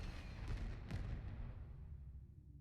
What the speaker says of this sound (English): You also gain access to the fireworks emote, which really functions more like a device.